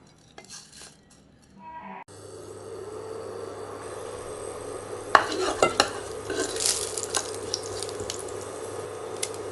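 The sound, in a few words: spices sizzling in ghee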